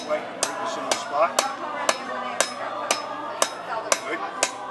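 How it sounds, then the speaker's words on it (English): A hammer strikes metal in a steady series of about ten sharp, ringing blows spaced roughly half a second apart, close and loud. "Hammer down this part."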